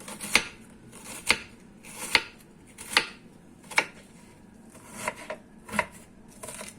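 A kitchen knife chops through an onion, about seven crisp, sharp strikes in a steady, slightly uneven rhythm, close up and alone with no talking.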